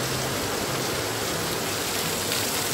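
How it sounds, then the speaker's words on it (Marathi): Heavy rain pours down continuously on the first day of Ganesh Chaturthi, a dense steady hiss with no pauses, close and fairly soft. "बघा किती मगापासून नुसता पाऊस पडतोय. नुसता पाऊस म्हणजे पाऊस."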